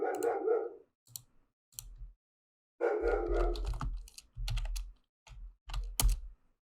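Someone types an admin password on a computer keyboard with short bursts of key clicks. A dog barks in between and near the end, close and fairly loud.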